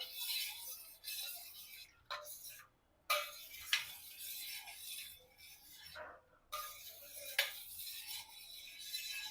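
A spoon stirs yogurt starter into milk in a metal pot, giving soft, continuous rasping scrapes with brief pauses and a few light clinks, close and fairly quiet.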